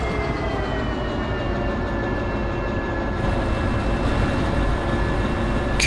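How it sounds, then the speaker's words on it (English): A freight train rolls steadily through the Derail Valley video game, with a constant loud rumble and a faint high whine running throughout. "Carefully maneuvering the train down the thing here, down towards the harbor and town"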